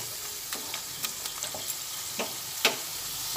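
A spiced fish mixture for til katla being stirred in a frying pan, a quiet steady sizzle punctuated by several separate scraping and tapping strokes of the spoon against the pan, without speech.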